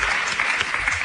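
Brief burst of studio audience applause in an Italian radio show, dense even clapping at full strength for the whole short stretch with no voices over it.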